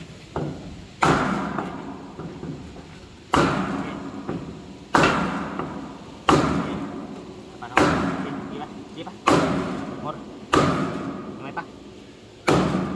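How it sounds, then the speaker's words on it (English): Repeated hammer blows on a wood block, about ten solid thuds at a steady pace, each ringing briefly, with faint background noise between strikes. "You hit it with a hammer, put it right up against the end."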